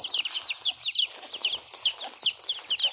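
Hens with their chicks in a farmyard, soft clucking mixed with a rapid run of high, close peeping chirps throughout.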